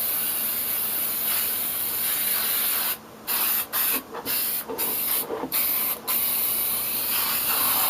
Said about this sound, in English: Now what I'm going to do is get this clear coat. And it's the Krylon Clear Acrylic.